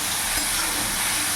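Water hits spices frying in a pan with Kashmiri chilli powder for a fish and potato curry, giving a loud, steady, close-up hiss and sizzle that stays even and unbroken the whole time, with no voices.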